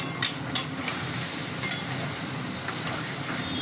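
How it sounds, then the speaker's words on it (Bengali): Kachur lati (taro stolons) cooked with grated coconut crackle softly in a pan under a continuous low sizzle, while a few sharp scrapes of a stirring utensil sound against the pan. "এরমভাবে নাড়তে নাড়তে আর একটু শুকিয়ে যাক, তাহলে টেস্টটা ভালো হবে।"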